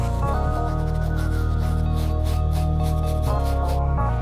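A soft bristle brush scrubs a Nike SB Dunk sneaker in quick, rhythmic back-and-forth strokes, close and steady over a constant low hum.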